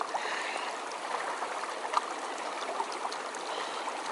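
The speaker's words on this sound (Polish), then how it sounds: "Znaleźliśmy takiego wodospadu zajebistego" A stream flows beside a waterfall outdoors, a steady close broadband rush of water that holds at an even level throughout.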